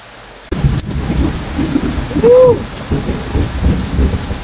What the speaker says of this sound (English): Thunder clapping.